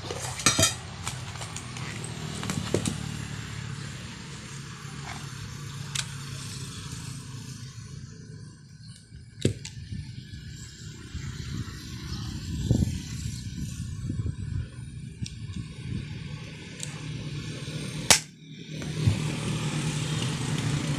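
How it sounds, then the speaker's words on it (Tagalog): Rivets set into a grinder's push button, heard as sharp metallic taps and clinks scattered over a low background rumble, a few louder strikes standing out. "Ang gagawin natin dito guys, lagyan natin to ng rivets."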